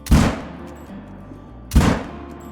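Two loud rifle shots boom at a red deer stag in a hunting video game, each a sharp blast with a rolling tail, spaced well apart, no talk.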